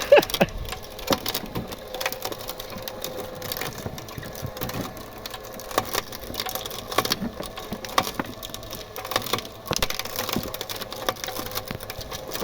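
An electric-motor auger wood chipper, a 0.75 kW unit, shreds branches with irregular crunching and splintering cracks over a steady mechanical whir, close and fairly loud.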